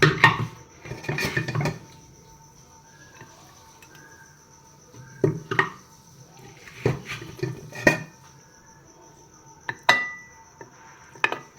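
Plates and utensils clatter and clink in a home kitchen while mutton namkeen is dished out, in several separate bursts of close metal and ceramic knocks with quiet gaps between them.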